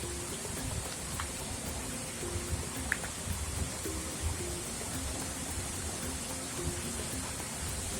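Steady rain falls in a soft, continuous hiss, with occasional faint drips standing out against the even wash of water.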